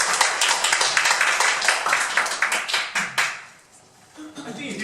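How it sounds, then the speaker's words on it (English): An audience at a Singapore speakers' club meeting applauds a speaker named Shona: dense, steady clapping from many hands for about three seconds, then fading to near quiet. "Let's give Shona a big round of applause."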